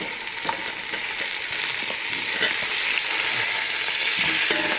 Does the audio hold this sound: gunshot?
no